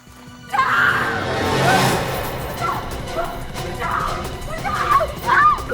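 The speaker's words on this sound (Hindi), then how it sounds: "तुम्हें क्यों चिल्ला रही हो?" A woman screams in distress in a Hindi crime drama scene: a loud, sustained cry rising and falling over several seconds, close to the listener, with some clatter beneath.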